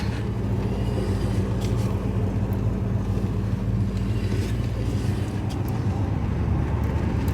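A Porsche 928 drives along a public road, heard from inside as a steady low engine and road rumble mixed with wind noise, continuous and fairly loud, with no talking.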